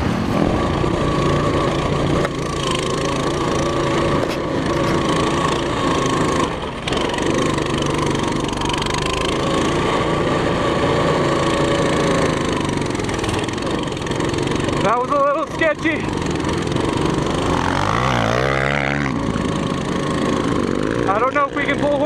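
A Coleman CT200U-EX pit bike engine roars at full throttle on a dirt track, loud and steady for the whole stretch with a small wavering in pitch, while people talk and shout over it.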